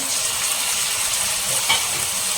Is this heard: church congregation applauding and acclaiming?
no